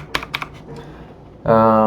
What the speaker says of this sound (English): you can use greater than or less than on your keyboard to move frame by frame